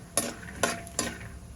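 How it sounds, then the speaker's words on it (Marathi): Oil crackles softly in a pan of frying peanuts, broken by three sharp scraping bursts as they are stirred. "आता आपण त्यावर शेंगदाणे तळून घेऊया."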